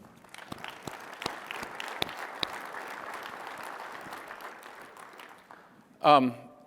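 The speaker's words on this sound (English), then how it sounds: "let's give her an early round of applause" A crowd at a biofuels industry event applauds the governor, steady clapping from a large audience that continues evenly, ending with a brief loud burst of voice near the close.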